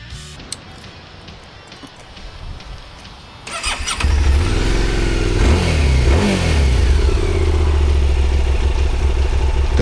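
A QJ Motor SVT 650X motorcycle engine cranks and fires up after a quiet lead-in, then settles into a loud, steady, throbbing idle with rising revs, close by.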